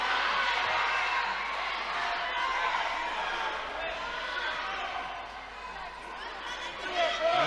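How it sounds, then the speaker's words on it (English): Crowd at an independent pro wrestling event roaring and cheering as a wrestler is thrown to the floor, a sustained loud din with an announcer talking over it. "Listen to this crowd."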